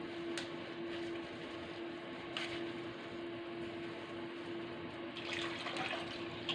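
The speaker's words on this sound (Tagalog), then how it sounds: "Lagyan natin ng gata na mga idol. Gataan natin." Coconut milk poured into a simmering jackfruit stew, giving a soft, steady liquid pouring and bubbling sound over a constant low hum, faint and with no voices.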